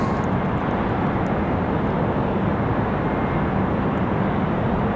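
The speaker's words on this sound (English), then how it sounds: "today Air France bringing the Dreamliner" Air France Boeing 787 Dreamliner at Raleigh Durham airport, a steady loud broadband jet roar held throughout with no break, close and continuous.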